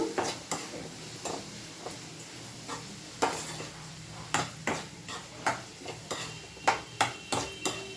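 A spoon stirs turmeric and salt through eggplant curry with onions in a pan, giving a steady run of scraping clinks against the metal under a soft background sizzle, close and fairly regular.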